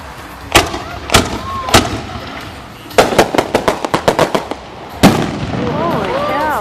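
Reloadable firework shells explode outdoors in sharp booming reports, first spaced out and then in a rapid run of bangs, with rising whistles and crackling trails between the blasts.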